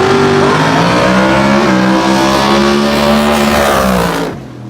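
Supercharged drag race cars launching together at the start line, a loud continuous roar of engines revving and pulling hard for several seconds before cutting off abruptly.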